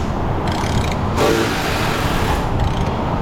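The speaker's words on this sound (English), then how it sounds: "It's a little too much ratchet for this, but we don't want it to leak, right?" Locking ratchet tightening an axle seal bolt on a Toyota FJ Cruiser, giving a steady close clicking and mechanical rasping in a noisy workshop, with no speech.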